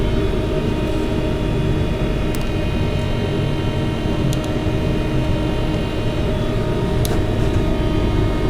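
Steady rumble of a train at Crewe station, a continuous heavy low drone with faint high squeals and clicks over it, loud and close throughout with no voices.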